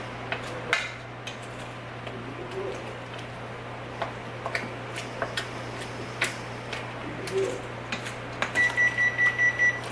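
An oven that has finished preheating to 350 degrees gives a quick series of about six short, evenly spaced electronic beeps near the end. A steady hum and light kitchen clatter run under them.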